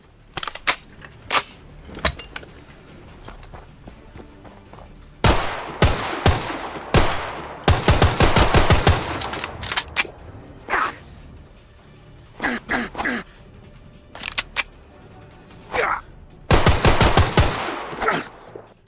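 USP-45 pistol mod firing in Fallout 4, loud sharp shots in quick bursts and rapid strings separated by short pauses, with some clicks and mechanical handling noises between volleys.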